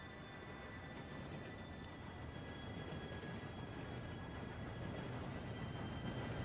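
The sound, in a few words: train approaching on railway tracks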